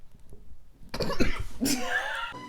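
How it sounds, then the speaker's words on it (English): A person coughs up close, a couple of harsh bursts following a quiet moment, with a voice trailing after. "Did it make you cough?"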